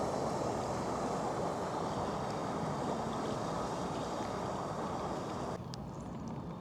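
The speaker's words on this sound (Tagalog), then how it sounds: "Kala ko bangka na yung dumadaan. Sasakyan pala." A vehicle drives through deep floodwater on a submerged road beneath an expressway, a steady loud wash of churning water and engine rumble that drops off slightly near the end.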